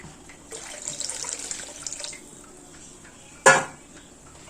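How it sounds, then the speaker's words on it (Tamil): Water pours steadily into a pot of mutton and radish soup for a couple of seconds, then a sharp metallic clank of cookware rings out in a quiet kitchen. "இன்னும் கொஞ்சம் தண்ணி ஆட் பண்ணிப்போம்."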